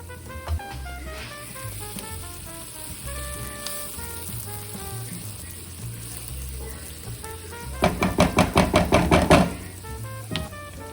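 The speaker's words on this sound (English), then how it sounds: "my butter is starting to melt. So I'm gonna go ahead and stir in my garlic." Garlic sizzles and crackles in melted butter in a pan, a steady soft frying hiss under a music bed, then a quick run of stirring scrapes near the end.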